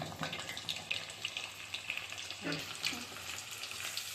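Tuna fish kebab pieces fry in hot oil on a tava, giving a continuous bright sizzle with crackling pops and occasional utensil stirring.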